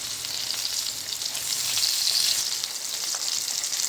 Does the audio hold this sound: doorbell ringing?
no